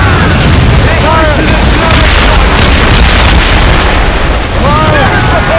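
Heavy broadside cannon fire from sailing warships in Assassin's Creed Rogue, with repeated deep booms and bursts rolling steadily through the battle while crew members shout over the din.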